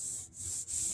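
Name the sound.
sanding guitar finish with 400 grit wet sanding paper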